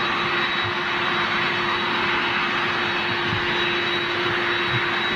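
A Ryanair Boeing 737 jet passing overhead, its engines producing a steady, loud, continuous roar with a faint high whine running through the whole stretch.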